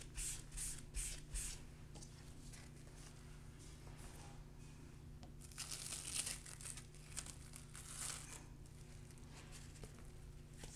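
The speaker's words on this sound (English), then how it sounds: "use a little spray of this rubbing alcohol to make sure it's nice and clean" A few quick hisses of a spray bottle of rubbing alcohol close up, mixed with soft crinkling and handling noises over a low steady hum.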